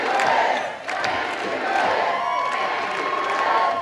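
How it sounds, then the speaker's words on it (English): A large crowd at a political rally chants and cheers in approval, a dense, loud roar of many voices that holds steady throughout. "That proclamation spurred a chant of approval from the crowd"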